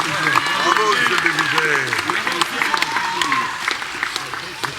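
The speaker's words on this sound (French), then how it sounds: "Je demande de l'applaudir et de le remercier." Audience applause for a deputy at a town New Year's ceremony, with clapping running under loud overlapping voices and cheering.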